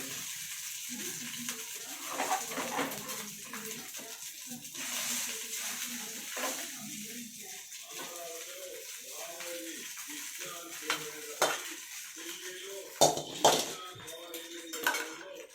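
Jeera rice stirred in a metal pot, with repeated scraping and clinking of a spoon against the pan, light sizzling beneath, and quiet talk between the strokes.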